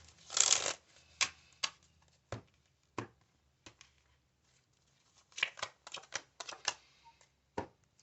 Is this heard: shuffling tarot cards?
yes